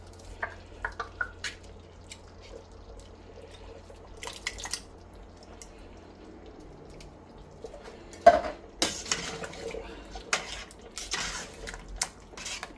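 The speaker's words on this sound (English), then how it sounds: "Give that a good stir around." Quiet kitchen sounds of a spoon scraping and clinking against a pot of boiling lamb curry with diced tomatoes, with brief bursts of stirring and bubbling, no talking.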